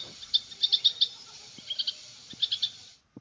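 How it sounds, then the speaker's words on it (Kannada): A pair of birds calling in distress gives bursts of sharp, high chirps in quick clusters of three or four, separated by short pauses, fairly close in a quiet outdoor setting. "ಈ ಪಕ್ಷಿ ದಂಪತಿಗಳು ಅಳ್ತಾ ಇದೆ, ಗಾಬರಿ ಪಡ್ತಾ ಇದೆ, ನೋವು ಪಡ್ತಾ ಇದೆ"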